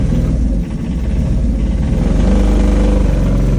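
A parked vehicle's engine rumbles steadily at idle close by, a continuous low throbbing that holds level throughout with no speech over it.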